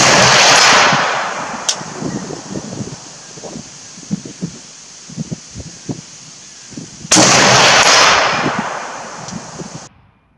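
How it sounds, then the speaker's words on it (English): A SOCOM Mk 12 rifle fired at a target, giving two loud sharp shots several seconds apart, each with a long ringing decay, with quieter rustling and handling knocks in between. "Now I'm shooting at the bottom of the triangle."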